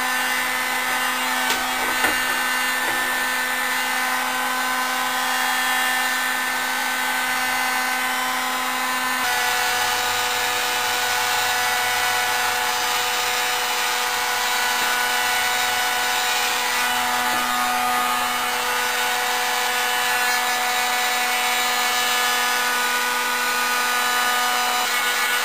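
A heat gun warming a sheet of ABS plastic for bending, a steady close blower whir with a constant motor hum that shifts slightly in pitch partway through, running without pause.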